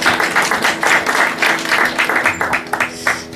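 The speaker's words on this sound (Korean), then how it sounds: "박수하겠습니다." An audience at a church poetry reading breaks into applause, a dense run of claps rising and falling in bursts, fairly loud and close, with no talking over it.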